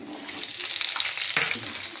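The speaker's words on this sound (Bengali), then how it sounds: "এবার আলুটাকে ভেজে নেবো তেলের মধ্যে" Potato pieces fry in hot oil during Bengali home cooking, giving a continuous soft sizzle with a brief stirring scrape partway through and no one speaking.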